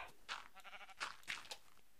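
Sheep in the Minecraft video game bleat several times in short, wavering bursts, heard clearly with no talk over them.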